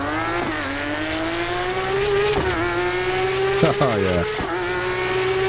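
Race car engine in Assetto Corsa Evo, a steady high-revving drone that climbs through gears with brief dips at shifts, loud and continuous, with a short spoken remark over it.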